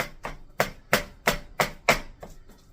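Ground hamburger meat chopped up with a utensil as it cooks in a frying pan, about seven sharp, evenly spaced chopping knocks, fairly close, then two fainter ones, with no talking.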